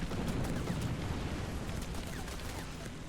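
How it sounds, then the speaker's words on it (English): Artillery fire in the War Thunder tank game, heard as a dense, continuous rumble of distant explosions and gunfire that fills the whole stretch without a break. "Incoming artillery fire?"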